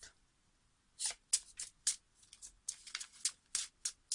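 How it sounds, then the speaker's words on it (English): A deck of tarot cards is shuffled up close, giving several quick riffling bursts separated by short pauses, crisp and clear with no voices. "I'm feeling the need for a shuffle here."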